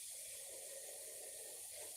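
Tap water runs steadily into a bowl for a Rose of Jericho plant, a soft continuous faucet hiss and splash heard alone at close range.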